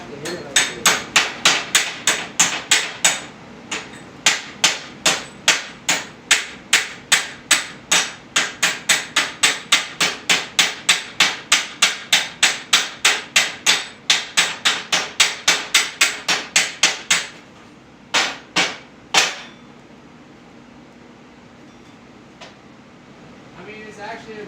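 Hammer striking a weld to break it off, a long run of sharp metallic blows in quick, even rhythm, then a pause and a few more scattered hits, with someone talking intermittently.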